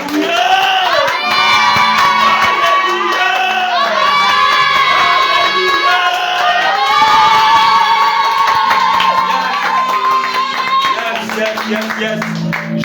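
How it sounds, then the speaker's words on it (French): A church congregation cheers loudly for Jesus, a dense roar of shouting and whooping voices mixed with clapping, sustained and close throughout. "Acclamons-le. Avec toute la force que nous avons. Acclamons Jésus."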